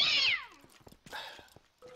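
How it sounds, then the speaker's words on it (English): A mob in the Minecraft Orespawn mod gives a loud, falling cat-like meow, followed by a few softer mewing calls and a short tonal squeak at the end, heard alone with no talk. "why do you make cat noises?"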